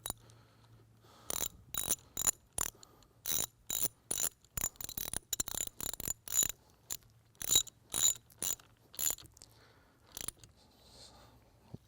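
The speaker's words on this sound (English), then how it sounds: "Once I have them forward, then all I'm going to do is I'm going to torque them down for 65 inch-pounds." A torque wrench ratchets scope-ring screws down to 65 inch-pounds on a Picatinny rail of a sniper rifle. Close, sharp ratchet clicks come in quick bursts with short pauses between them, and no one speaks.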